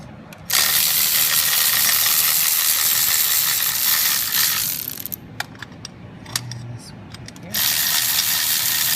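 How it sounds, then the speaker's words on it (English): A ratchet with a Torx bit turns out the oil filter housing screws on a 6.0 Powerstroke engine, a loud, close buzz of rapid pawl clicks starting and stopping, with small metallic ticks and clinks in the gaps. "I'm taking out all the screws that hold down the oil filter housing"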